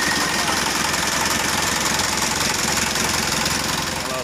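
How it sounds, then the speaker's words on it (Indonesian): A Mitsubishi Canter FE84G truck engine idles steadily, producing a dense, continuous mechanical clatter with a low throb, loud and close without any break or change in pace. "Kalau suara mesinnya terdengar masih garing, halus, suara khasnya kanter."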